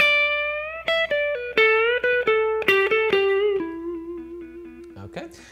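Electric guitar lick from a lesson on a guitar solo, with a whole tone string bend: a run of clean sustained picked notes stepping downward, a slow rising bend, then fading ringing notes, close and loud, played alone.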